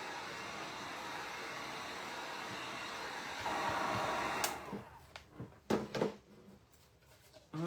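A hair dryer blows steadily to dry stain on a wooden lantern arch, grows louder for a moment, then cuts off, leaving a few knocks and handling sounds.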